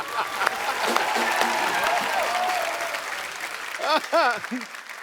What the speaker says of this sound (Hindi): जोरदार तालियां मेरे लिए